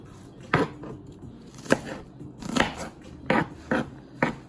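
A knife chops an onion on a board in about six sharp, separate strikes, close and fairly loud, landing at an irregular pace with quiet gaps between them.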